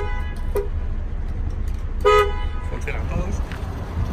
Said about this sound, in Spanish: Vamos a la bocina.